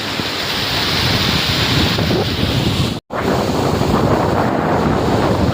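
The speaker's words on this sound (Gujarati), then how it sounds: "નદીનો ધોધ વહે છે" A loud, steady roar of rushing water, dense and unbroken, with one brief dropout midway before the torrent resumes.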